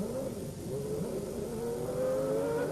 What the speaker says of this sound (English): Alain Prost's gearbox wasn't right. Listen to him looking for gears.